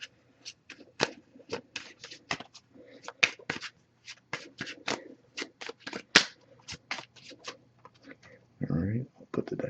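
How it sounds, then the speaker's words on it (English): An oracle card deck is shuffled by hand nearby in quick bursts of crisp riffling and flicking, with a brief rustle and a low hum underneath. "I did pre-shuffle this deck, but give it a few more shuffles"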